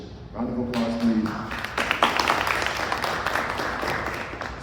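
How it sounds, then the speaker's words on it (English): Applause at a Black History youth essay competition celebration: a voice speaks briefly, then scattered claps swell into steady audience clapping that carries on to the end. "Round of applause, please."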